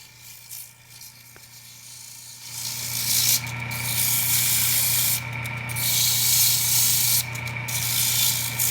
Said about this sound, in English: now he's just going to do the final sanding with a little bit of sandpaper.